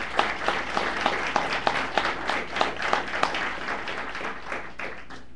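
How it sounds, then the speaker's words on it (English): Audience applause fills a military graduation ceremony for an Army Ordnance battalion at Fort Lee, Virginia, dense steady clapping from a large crowd heard at a moderate distance. "Please give the family members and guests a well-deserved round of applause."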